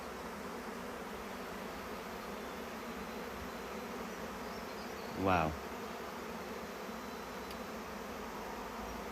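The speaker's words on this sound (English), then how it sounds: "Right in the centre of a swarm of bees." A swarm of honey bees flying around outdoors makes a steady, even buzzing hum that fills the whole stretch, with one brief exclaiming voice rising partway through.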